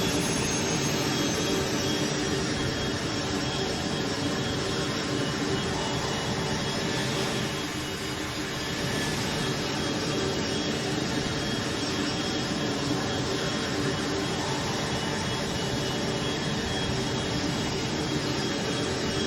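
The Cessna Citation Mustang C510 jet in Microsoft Flight Simulator gives a steady, loud, broadband whine and roar that holds evenly throughout, with only a slight dip midway and no talking.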